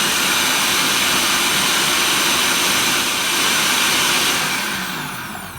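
A food processor blends roasted butternut squash soup with a loud, steady motor whine and churning roar that holds constant before easing off at the end.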